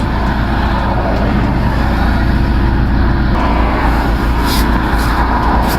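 Road traffic passes close by in a loud, continuous rumble of cars and heavier vehicles, with engine drone swelling and easing as vehicles go past.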